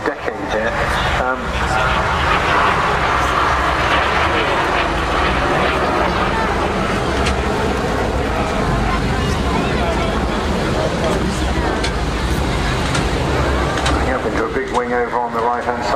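Vintage T3 aircraft flying display maneuvers at a Southport airshow, a continuous broad engine roar mixed with wind noise, with a voice talking over it.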